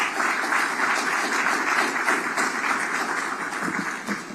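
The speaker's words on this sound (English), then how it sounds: "Give them a round of applause." An audience at the launch of the 25th Sigma Legacy Run gives a steady round of applause, with dense, even clapping at moderate distance that fades toward the end.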